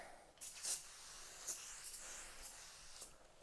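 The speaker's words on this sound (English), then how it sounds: "spray away glass cleaner" Spray Away glass cleaner is sprayed during a Samsung 50-inch TV backlight repair, giving a few short, soft hissing bursts that are faint against a quiet room.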